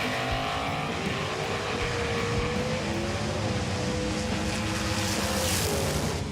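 A Redline Savage 29 crew cab toy model car weighing 117 grams rolls around a small track called Shorty, giving a faint steady whirring rumble with slight pitch wanders, no speech.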